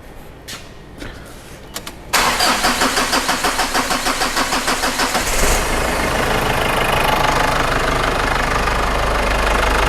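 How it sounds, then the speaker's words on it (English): A car with a leaking head gasket turns over with a rapid run of cranking pulses, then catches and settles into a loud, rough idle. "I'll quickly start the car"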